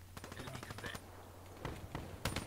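Rapid bursts of automatic gunfire from the Man of War rifle in Black Ops 3, a cluster of quick shots, a pause, then more short bursts, moderately loud over steady game background hum.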